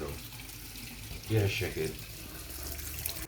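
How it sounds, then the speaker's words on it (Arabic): Tap water runs over cucumber seeds in a strainer as they are rinsed, a soft steady splash that swells briefly in the middle while a person speaks over it. "بنكتهم بالمصفاية وبنفتح عليهم المي وبنغسلهم"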